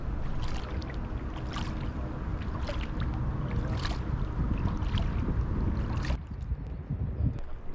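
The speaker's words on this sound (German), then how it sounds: "Zurück auf dem Wasser begegnet uns das erste motorisierte Schiff auf der Lahn" A motorboat's engine rumbles steadily and fairly close on the Lahn river, heard from kayaks amid wind and water noise, with rhythmic paddle splashes recurring before the drone eases near the end.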